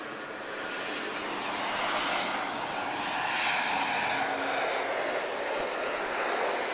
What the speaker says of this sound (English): very nice Embraer E195 advanced range